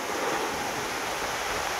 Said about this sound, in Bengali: প্রচুর বৃষ্টি হচ্ছে, সাথে বাতাস।